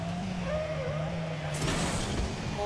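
Arcade car-soccer gameplay in Rocket League: a steady engine drone with a rising whine and a sudden boost or impact burst about halfway, played alone without talk.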